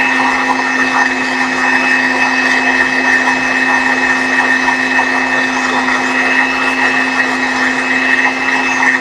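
An electric mixer beats a marshmallow mixture with a loud, unbroken motor whine that holds an even pitch from start to finish, with no voices over it.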